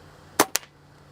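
A Gamo Arrow air rifle fires at a target during an airgun expo: one sharp, loud crack followed a split second later by a second shorter snap, then quiet.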